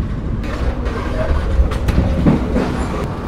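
An executive carriage on the KA Parahyangan rolls along the rails, a steady low rumble with soft clicks and a few knocks, close and continuous without voices.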